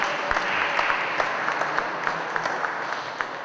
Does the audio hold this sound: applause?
yes